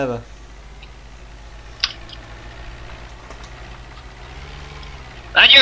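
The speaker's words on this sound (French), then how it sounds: "Oh, le pauvre petit tracteur." Small tractor engine idling in the farming video game Good Old Farm, a low, steady droning hum with a brief click and a louder burst at the end, while a person talks over it.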